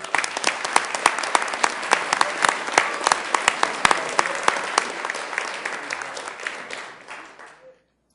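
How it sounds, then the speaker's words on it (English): Sustained audience applause at a city council meeting in Sioux Falls, dense steady clapping from a full room that fades out toward the end, with a few voices mixed in. "Let's give them a round of applause."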